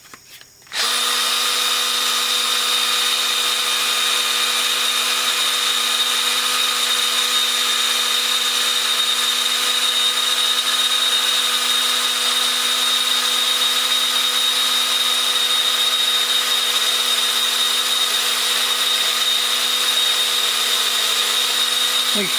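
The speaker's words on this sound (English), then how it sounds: "You can put that right in your chuck. And then I'll take a little piece of sandpaper." A small metal part spins in a power drill chuck and is sanded with sandpaper to remove rust, a steady loud high whine that starts abruptly and runs unbroken.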